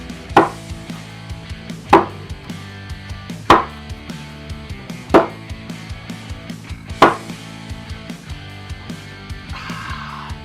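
A Cold Steel Republic stainless steel camp knife has its tip driven into wood in five sharp, evenly spaced impacts, loud and close, with fainter knocks and handling noise between strikes.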